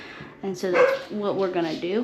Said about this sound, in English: Excuse my dogs, they have no manners.